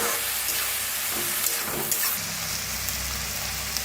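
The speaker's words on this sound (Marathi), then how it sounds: "1-2 मिनिट का नाही असं छान भाजून घेतलेला आहे तेलात डाळ, कांदा" Lentils and chopped onion roast in hot oil in a pan, giving a steady close sizzle and hiss that runs throughout with a few faint clinks and stirs.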